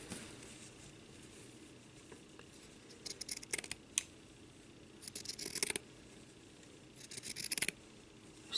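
Scissors rough-cut a strip of craft material for shabby chic stocking ornaments, with three short bursts of crisp snipping separated by quiet pauses, close and soft.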